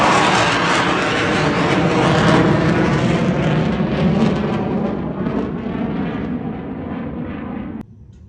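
Air National Guard F-15 jets flying over, a loud, continuous broadband roar that slowly fades and then drops off abruptly near the end.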